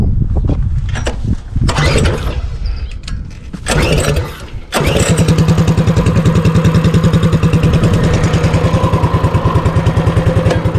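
Coleman CT200U mini bike engine fitted with a Stage 1 performance kit and governor bypass, first a few rough starting bursts, then catching and settling into a loud, throaty, steady idle close to the microphone.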